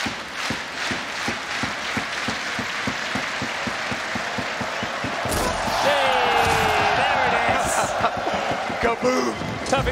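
Esports arena crowd at a CS:GO Major grand final on Inferno erupts in loud cheering and applause as the bomb detonates, following a stretch of rhythmic clapping and game sounds; a caster talks over the noise.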